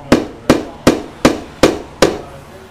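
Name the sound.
hammering a nail into a window part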